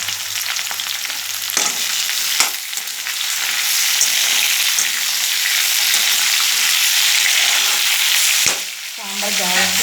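Beerakaya ridge gourd and tomatoes fry in a pan for sambar with a steady, loud sizzle, stirred a few times with sharp scraping clatters, heard close with no voices.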